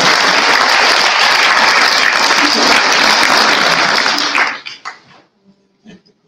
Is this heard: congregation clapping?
yes